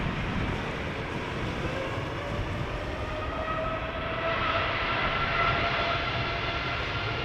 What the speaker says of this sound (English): United Airlines Flight 947 to Washington. It's a 7878, 10 years old